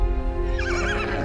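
A horse neighs, a loud, close whinny with a wavering, shaking pitch that rises over a low rumbling background.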